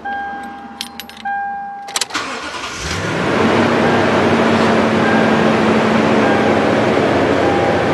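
A 2010 Toyota Tundra with a CNG conversion starting up, with keys jangling and a few clicks, then the engine cranking and catching into a loud, steady close idle.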